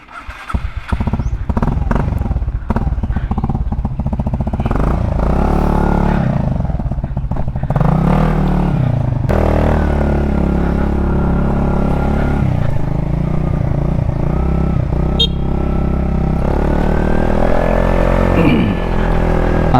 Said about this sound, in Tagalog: ang gagamitin nating motor ngayon ay si Sky